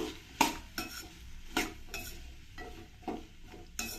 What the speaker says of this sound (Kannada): ಇದನ್ನು ಈ ಎಣ್ಣೆಗೆ ಸೇರಿಸ್ಕೊಳ್ತೀನಿ ಇದನ್ನ ಎಣ್ಣೆಯಲ್ಲಿ ಸ್ವಲ್ಪ ಹುರ್ಕೋಬೇಕು